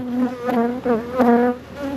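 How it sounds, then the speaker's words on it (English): Honey bees from a strong, healthy colony in a two-box hive of twenty frames hum close by, a dense, steady buzz that rises and falls in pitch as individual bees pass near. "Good amount of bees"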